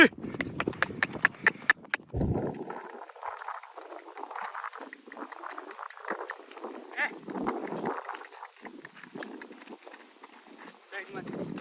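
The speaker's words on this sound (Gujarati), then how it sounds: "જો પાછી વાડીએથી ઘરે લઈને જઈ છે ઘોડીને" A mare is led home from a farm field, her hooves clip-clopping in a steady walking rhythm with quick sharp strikes at the start, while people talk over the hoofbeats.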